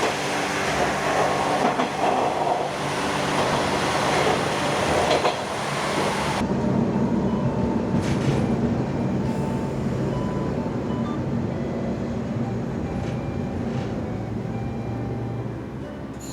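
A KiHa 47 diesel local train runs on rails as it comes into Yoroi station. Its wheels and engine give a loud, continuous rumble with light rhythmic clatter, slowing a little toward the end.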